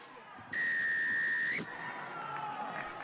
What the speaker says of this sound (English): Whistle blown there on Enisei.